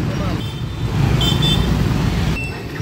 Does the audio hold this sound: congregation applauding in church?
no